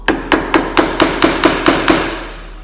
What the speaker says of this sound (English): I'm going to make the stopping point with my chisel first.